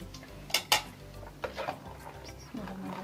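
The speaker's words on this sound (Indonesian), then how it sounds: "Kita aduk seperti ini." Banana cake batter is stirred in a bowl, with a few sharp clinks of a utensil against the bowl and soft scraping between them, close and fairly quiet.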